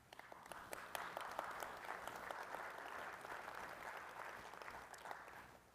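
Faint audience clapping at a Burns Night gathering, scattered sharp individual claps building into a steady, quiet round of applause that holds for several seconds.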